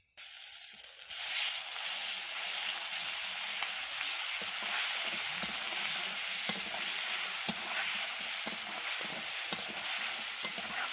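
Garlic paste dropped onto whole garam masala in hot oil, a continuous close sizzle and crackle with occasional small pops and stirring clicks, steady and fairly quiet throughout.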